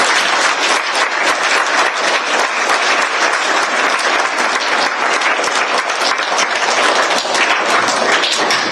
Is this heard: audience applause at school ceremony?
yes